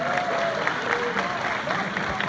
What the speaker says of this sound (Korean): 박수 한번 더 주세요.